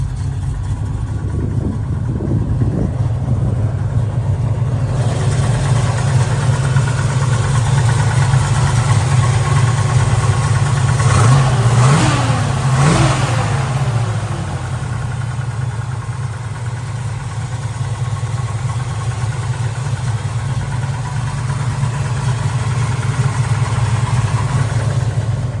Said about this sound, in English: Exhaust note. This thing sounds awesome.